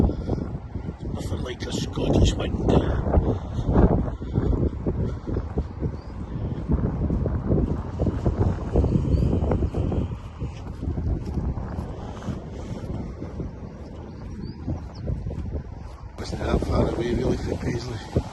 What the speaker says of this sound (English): The wind is windy around here.